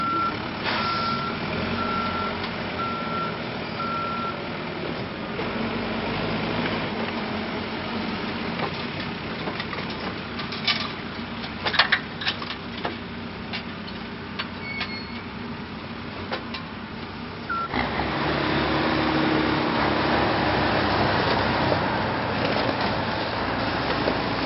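Trucks work at a concrete block plant, a steady backup alarm beeping in an even rhythm over engine rumble and yard noise, with the louder truck drone swelling toward the end.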